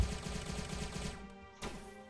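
A rapid burst of pistol gunfire in the video game Starbound, a quick string of sharp shots followed by one final shot after a short pause.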